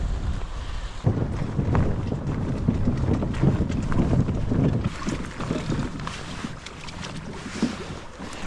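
Strong wind gusts buffet the microphone on a lake during winter kayak fishing, a loud continuous roar with rumbling low-end swells and no voices.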